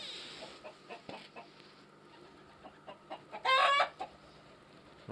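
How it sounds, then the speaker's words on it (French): Chickens in a coop, two roosters and five hens, clucking softly in scattered bursts, then a rooster lets out a loud, sharp crow partway through. "j'ai 2 coqs et 5 poules."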